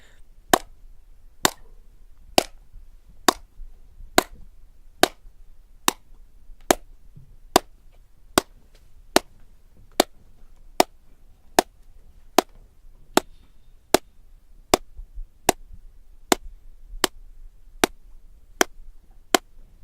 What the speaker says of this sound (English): You can hear how the room deadens echoes by clapping constantly while closing the doors.